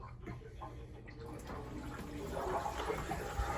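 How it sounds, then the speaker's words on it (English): A household water heater refilling after a washing machine valve replacement, with a soft steady rush and trickle of water that grows slightly louder, close by and quiet. "Water heater's filling back up."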